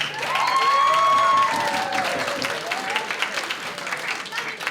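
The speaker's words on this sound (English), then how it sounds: "Can we get a round of applause for Nabila, please?" Wedding guests applaud and cheer for the bride at a wedding reception, a loud, dense burst of clapping with whoops and shouted voices that stays steady for a few seconds before thinning out.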